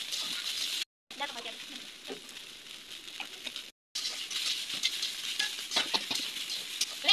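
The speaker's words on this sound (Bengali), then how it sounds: "তারপর কিছুক্ষণ ভালোভাবে নাড়াচাড়া করে নেব।" Kalmi greens being stirred as they fry in a pan, soft scraping and patter under a gentle sizzle, quiet and close, broken by two short gaps of silence.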